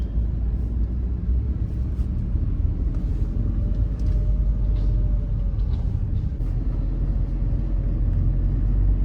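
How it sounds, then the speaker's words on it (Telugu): Steady road traffic rumbles on the Tirumala bypass road off the Anantapur highway, a constant low drone of passing vehicles with no talk. "24/7 ట్రాఫిక్ ఉంటుంది ఇక్కడ."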